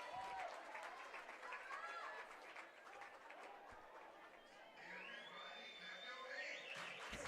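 A softball stadium crowd claps steadily along during a full count, a faint, distant wash of hand claps mixed with crowd chatter and a few high whistle-like tones.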